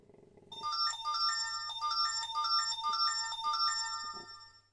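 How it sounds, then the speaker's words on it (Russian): Phone notification tones chime in a rapid repeating melodic pattern, several bright electronic jingles in quick succession, loud and close with a low steady hum underneath and no talking. "Ох ты, сколько много пришло-то. Сразу сообщений."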